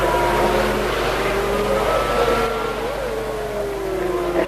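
Onboard a Ferrari Formula 1 car at the 1991 Mexican Grand Prix, a loud, close, high-pitched engine scream holds steady, then dips and climbs again through gear changes, heard alone.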